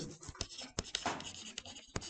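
Chalk or marker scratching across a board in short, brisk strokes, close and fairly loud, with brief pauses between bursts of writing while an accounting lesson is under way.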